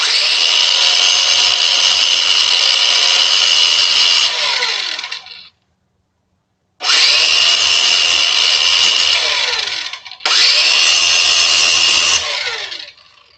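A loud power tool runs in three long bursts driving a bolt into an RC model, whining steadily for several seconds each time, with a short silent gap after the first run and a brief break between the last two.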